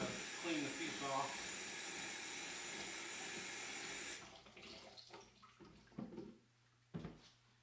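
Water runs steadily over a stained glass piece while grinding dust is rinsed off, a loud continuous gush for about four seconds that then stops, leaving scattered drips and faint splashes nearby.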